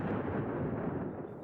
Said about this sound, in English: Musket and cannon fire echoed across the lake, a cacophony of destruction.